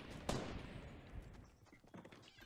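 A single sharp gunshot in Fortnite Battle Royale, followed by scattered faint game sounds and soft background noise.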